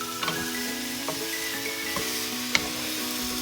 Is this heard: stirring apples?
yes